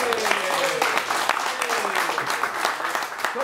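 Applause rises at a bocce doubles tournament trophy ceremony, steady crowd clapping running throughout at moderate level, with a voice talking over it.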